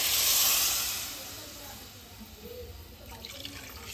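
Water released by cooking crabs is poured off from a pot in a short rushing, hissing splash that starts loud and tapers to a quieter trickle.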